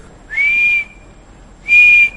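A person imitates an expiratory wheeze by blowing out through tightly pursed lips, producing two steady, loud, close whistled tones, each about half a second long, separated by a short pause.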